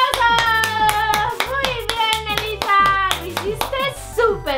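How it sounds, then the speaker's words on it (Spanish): Rhythmic hand clapping for a children's Christmas cupcake-and-cookie decorating show, sharp even claps about twice a second, close and loud over a bright, tuneful voice or music carrying through. "¡Aplausos, amiguitos!"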